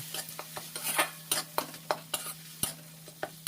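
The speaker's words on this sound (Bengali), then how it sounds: "এবার ভালো করে তেলের সাথে নাড়াচাড়া করে ভাজা ভাজা করে নেব" Spices for a chhana curry stirred in hot oil, with a steady sizzle broken by sharp scraping and clinking strokes of a spoon against the pan at an irregular pace.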